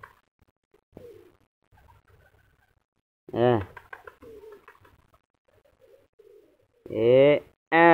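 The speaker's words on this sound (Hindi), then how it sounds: "ये कबूतर भी पूरे पहाड़ां दा रामपुरी कबूतर है" A Rampuri pigeon gives two loud, close bursts of throaty cooing, one early and one near the end, separated by quiet with faint scattered background sounds.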